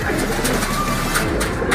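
Pet pigeons released from their loft, with soft cooing and bird calls over a steady outdoor background, continuous through the short moment rather than distinct wingbeats.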